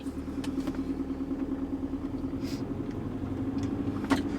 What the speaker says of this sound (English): you can hear the gearbox and actually accelerating quite gently at the moment